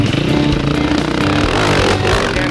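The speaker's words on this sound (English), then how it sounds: "motorcycle." A motorcycle engine drones loudly and steadily through a tight turn, a continuous buzzing hum with slight rises in pitch and no voices.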